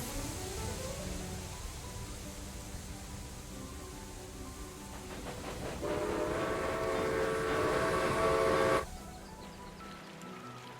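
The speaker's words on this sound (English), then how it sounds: "That's a good train." A train rolls along steadily in the Railway Empire 2 railway game, a low rumble with tonal hum that grows louder and brighter near the end before cutting off sharply, leaving quiet.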